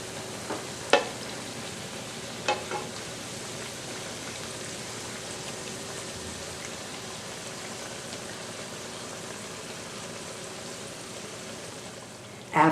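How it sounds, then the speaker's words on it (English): Fried breads crackle and sizzle steadily in oil in a skillet, a soft continuous frying hiss with a few sharper pops and clinks near the start and end. "Turn them over to the other side and continue frying until both sides are golden brown."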